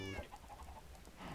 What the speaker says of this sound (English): I didn't spawn a single chicken from four stacks of eggs.